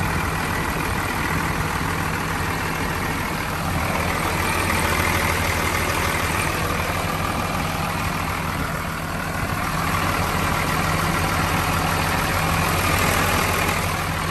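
The diesel engine of a 2004 Komatsu WA200PT-5 wheel loader idles with a steady, close, low rumble and a faint whine on top, holding even throughout with no voices.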